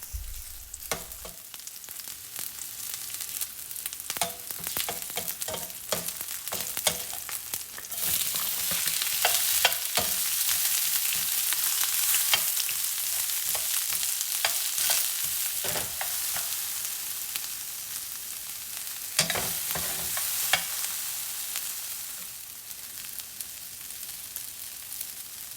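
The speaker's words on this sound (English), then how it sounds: "In a skillet over medium heat, heat about 2 tablespoons of oil. I add the garlic and onions and cook," Garlic and onions fry in about two tablespoons of oil in a skillet over medium heat, giving a continuous crackling sizzle with repeated clattering spatula stirs that come in bursts, close up and without any voices.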